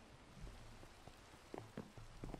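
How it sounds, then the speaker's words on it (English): Rain falls in the video game Infinite Resources as a steady, soft patter with scattered louder drops landing through it; no one speaks. "Hasn't rained in so long in the game that I forgot what it sounded like."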